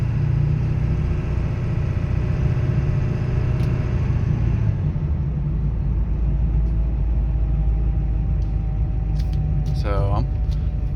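A 2002 Ford F250 pickup with the 7.3L diesel engine idling cold, a steady deep rumble close by that drops in pitch partway through, with a brief higher whine near the end.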